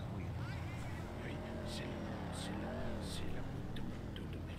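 A motorcycle engine runs steadily nearby, its tone rising and dipping slightly, while people talk over the rumble.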